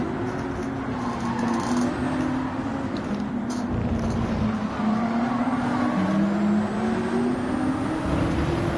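Ferrari 458 GT3 race car engine in Gran Turismo 7, a steady loud high-revving drone with rising and falling pitch as it accelerates and shifts, other cars faintly audible, no talking.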